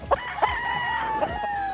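A Filipino-breed rooster crowing on a chicken farm, with one long, loud, close crow holding a steady pitch and a few short clucks at the start, no talking.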